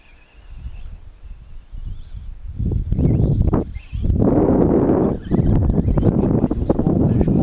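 Strong wind buffets the microphone at a beach-side event in La Londe, a low roaring rumble that builds and surges in heavy gusts, dropping briefly between blasts and then pounding back loud and close.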